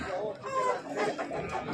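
Chickens cluck at a bazaar poultry market, with several birds fairly close, over a constant background of crowd noise and people talking.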